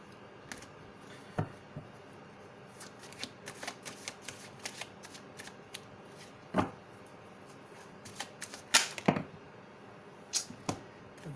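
Tarot cards are shuffled by hand in a quiet room, giving soft, irregular riffles, slaps and taps that come in scattered bursts. No one speaks.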